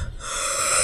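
A single short, sharp sneeze, close and breathy, with no talk.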